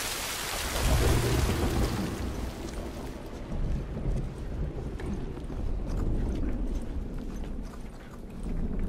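Rain pours heavily in The Last of Us Part 2, opening with a loud broadband rush and a deep rumble of thunder, then settling into a steadier patter and hiss.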